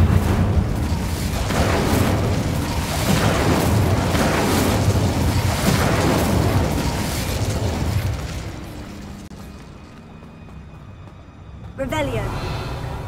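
In the Hogwarts Legacy video game, an Incendio fire spell erupts in a run of loud booming, crackling blasts. The blasts fade to a quieter stretch before a brief whooshing flare at the end, with a voice speaking over parts of it.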